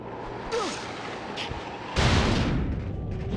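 Ice cannon in the Spyro game firing in short bursts: a faint whoosh, then a loud heavy blast with rumbling noise that trails off, alone without talk.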